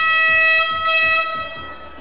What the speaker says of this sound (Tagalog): Grabe yung buzzer natin.